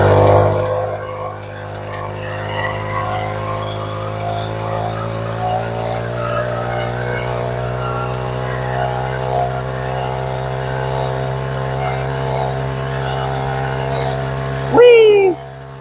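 A BMX bike converted into a rear-wheel-drive 4-stroke moped rides along a canal path, its small engine droning steadily and close with a rising pitch as it gains speed, then a brief louder burst near the end.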